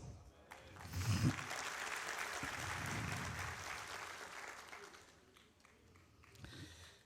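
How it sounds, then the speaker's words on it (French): A congregation applauds during a sermon, a moderate burst of clapping that swells and then fades away after a few seconds, followed by a quieter patter of a few remaining claps. "Je pensais qu'on aurait pu applaudir ça."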